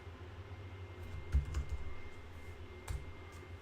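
Someone types on a computer keyboard in Windows 8.1, soft key clicks coming in a few quick clusters close up over a quiet background.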